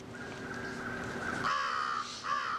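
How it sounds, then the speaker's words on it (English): A crow caws loudly and close by, with a long harsh call followed by a shorter second caw over a steady background hum. "Here comes the crow."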